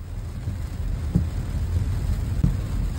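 A heavy rainstorm hits the south side of Monterrey, Nuevo León, giving a low, rumbling steady roar with a couple of brief sharper bumps and no voices.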